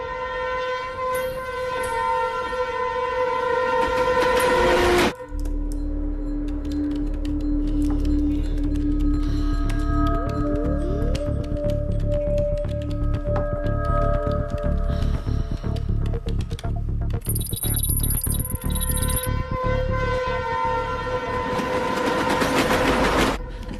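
A train pulls away and keeps running, with a steady low rumble and rattle of the cars that carries on loud and close for most of the stretch. Brief high tonal sounds rise above it near the middle and again toward the end.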